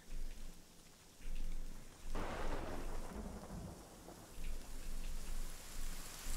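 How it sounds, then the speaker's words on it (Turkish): Heavy rain pours steadily inside the survival game Sons of the Forest, with a loud thunder crack about two seconds in rolling into a long rumble under the continuing downpour; no voices. "sağanak başladı"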